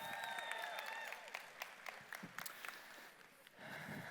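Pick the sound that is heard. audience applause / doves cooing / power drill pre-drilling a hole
audience applause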